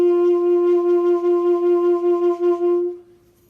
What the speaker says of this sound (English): it's called a vibrato because it vibrates.